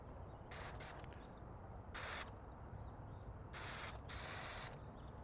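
Short hissing bursts from an adjusted spray nozzle during a rinseless car wash, several quick sprays then two longer ones, close and moderately loud against faint background noise.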